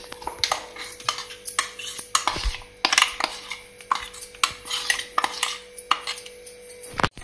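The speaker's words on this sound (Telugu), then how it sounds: "చక్కెర పొడిని ఇందులో కలుపుకోవాలి" A spoon scrapes and clinks against a bowl as powdered sugar is stirred into sweet corn batter, giving irregular taps and scrapes close by with a steady faint hum behind.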